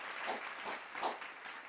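Audience applause welcoming award winners at a national achievement day celebration, a short, steady wash of many hands clapping at moderate volume.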